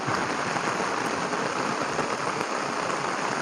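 Steady, dense rain falls at a viewpoint over Lam Phra Phloeng Dam in Thailand, a continuous even patter of drops hitting the ground with no pauses.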